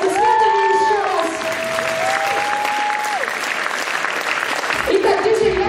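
An audience in a hall gives loud, sustained applause at a children's physical-education debut show, with clear pitched voices and exclamations riding over the steady clapping.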